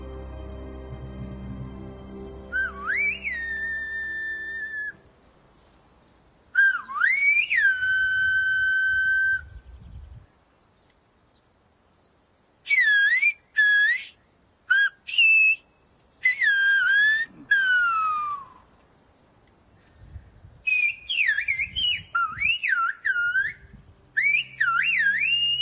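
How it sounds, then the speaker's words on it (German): Silbo Gomero, the whistled language of La Gomera, carried in long gliding, rising and falling whistles in separate phrases with pauses between, loud and clear with no talking. "Der Silbo, die Pfeifsprache der Guanchen, hat auf La Gomera wohl deshalb so lange überdauert"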